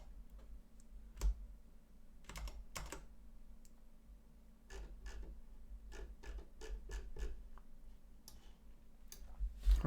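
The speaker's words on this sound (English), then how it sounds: "So we're typing the program." Quiet, sparse clicks of a computer keyboard being typed on while writing compiler code, coming in irregular short bursts and single taps against a soft background hum.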